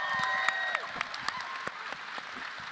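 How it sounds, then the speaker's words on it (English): Audience applause at a Star Wars Celebration 2025 panel, steady indoor clapping from a large crowd with scattered sharper claps, moderately loud and continuous throughout. "Give them all a big round of applause, everyone"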